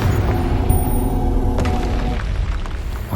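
A Confringo spell explodes with a heavy, rumbling boom during combat in Hogwarts Legacy, loud and sustained for about three seconds, with sharp crackling hits scattered through it.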